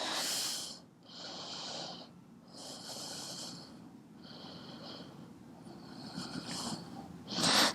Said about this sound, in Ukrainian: Залишаємося тут на 5 глибоких вдихів і видихів.